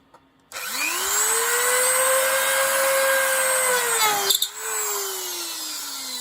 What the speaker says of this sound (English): just drill hole just into the plastic at this point